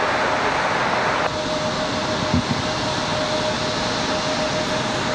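Steady broadband roar of a Southwest airliner arriving at Raleigh-Durham International Airport, heard from a distance as an even, sustained jet rumble with a faint thin tone running through it.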